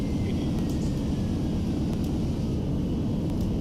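Boeing 787 thrust reversers roar during landing rollout in a flight simulator, a steady, loud, dense rumble of jet engine noise with no talk over it.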